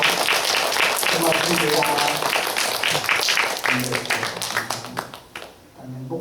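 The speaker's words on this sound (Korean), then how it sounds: "뜨거운 박수로 감사합니다." A church congregation applauds its teachers at a Teacher's Sunday service, a dense, sustained wash of clapping that fades toward the end while a speaker's voice carries over it.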